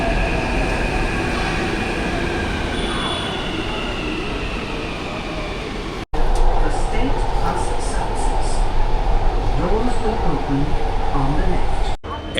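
A Hyderabad metro train rumbles and hums steadily throughout, heard from on board, growing noticeably louder and rougher after a brief cut midway.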